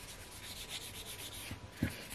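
Soft, steady scratchy rubbing of the brown side of a nail buffer worked back and forth over a fingernail, faint and close, with a small tap near the end.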